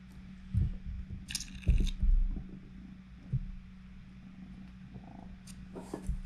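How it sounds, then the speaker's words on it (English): A pet chews on cords, giving soft, scattered crunching and biting sounds close by over a low steady hum, with a few louder bursts of chewing and a quiet purr-like rumble. "Stop chewing my chords."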